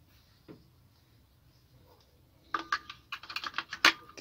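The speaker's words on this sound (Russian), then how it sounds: "Ну-ка, батарейки ставим ради интереса." Three batteries are pushed into a Soviet-era portable radio receiver, giving a quick run of sharp plastic clicks and rattles near at hand after a faint knock and quiet stretch.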